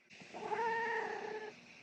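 A pet cat gives a single drawn-out, tonal meow lasting over a second, close to the microphone and fairly quiet, with no talk over it.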